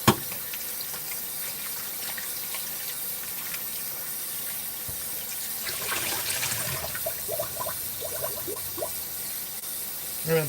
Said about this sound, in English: I was rinsing the potatoes.